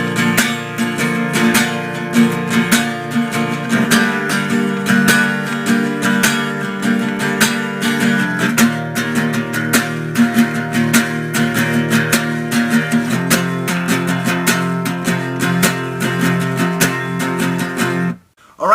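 Guitar strums the chord pattern of a song in a steady, continuous rhythm, loud and close, with changing chords and a sudden stop at the end, with no voices.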